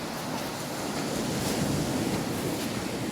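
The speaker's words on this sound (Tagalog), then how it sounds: "Makikita nyo na sobrang alon." Rough, strong ocean surf at a beach in Omar, Jolo, Sulu, heard as a steady, loud roar of crashing waves with wind buffeting the microphone, no voices.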